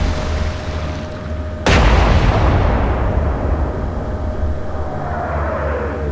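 A single loud, close naval gun blast from a battleship in the Atlantic Fleet game booms out sharply, then its deep roar and rumble trail off slowly over several seconds, with no one talking.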